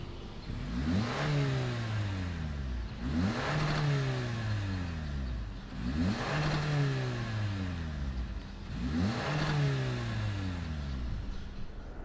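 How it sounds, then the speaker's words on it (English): A 2019 Toyota Camry XSE V6 revved four times in a steady rhythm, each blip rising sharply in pitch and then sliding back down to idle, close and clear with no talking. "fire up this V6 and see what it sounds like"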